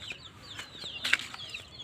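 Native chicken chicks in a rearing house give repeated high, thin peeps in quick overlapping bursts, fairly close but soft, with light rustling beneath and no voices.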